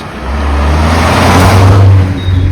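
A car speeds past on a private residential estate road, its engine note swelling loud and close before easing off as it moves away, with no voices.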